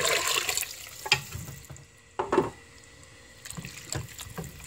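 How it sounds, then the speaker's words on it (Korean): Water is poured into a pot of stir-fried seaweed for Korean seaweed soup, making soft splashing, sloshing bursts that come and go in brief spurts, close and fairly quiet, with no talk. "미역을 볶은 후 물을 붓습니다."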